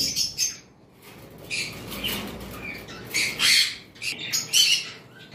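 A breeding pair of cockatiels gives close, loud squawks and chirps in short irregular bursts, with brief rustling between calls and no voices.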